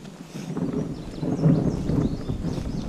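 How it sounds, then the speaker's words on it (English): Low rumbling thunder rolls in the distance during rain near beehives, a broad swelling murmur with wind-like noise and no talking. "You can hear the thunder in the background."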